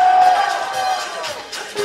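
Crowd at a live trot medley concert shouting and cheering in answer to the singer, a loud, sustained roar of many voices with scattered whoops.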